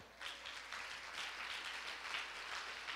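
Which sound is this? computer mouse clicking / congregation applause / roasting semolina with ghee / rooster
congregation applause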